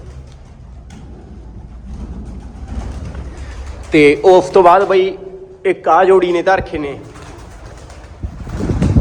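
Breeding pairs of racing pigeons coo softly in a loft where hens have laid eggs, a low murmuring bed of calls running throughout, partly under someone talking close by in the middle of the stretch.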